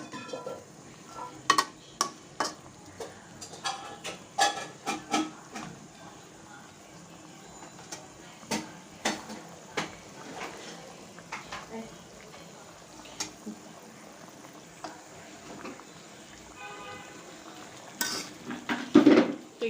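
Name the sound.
sautéing eggplant and hilsa fish head in a pan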